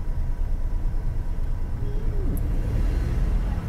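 A car engine hums under a Marathi driving lesson, with a low throbbing rumble that rises slightly as the accelerator is pressed, steady and close throughout.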